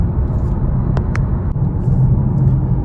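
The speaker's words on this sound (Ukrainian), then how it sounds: "від е, арочок з нижнього простору є шуми, трошки відчувається" Inside a 2024 Honda e:NP2 electric SUV on the move, a steady low road rumble rises from the wheel arches and underbody, filling the cabin loudly and continuously with a few faint high ticks.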